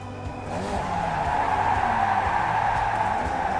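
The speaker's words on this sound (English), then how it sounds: "I did manage to keep slipping out on the fast, long corners" The tires of a Formula Vee race car skid through a fast, long corner at Lime Rock, giving a sustained, fairly loud squeal over the buzzing engine for several seconds.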